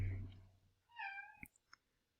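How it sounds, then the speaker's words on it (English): A pet cat gives one clear, drawn-out meow close at hand indoors, followed by a couple of faint clicks, after a brief low rumble at the start. "my cat down here meowing"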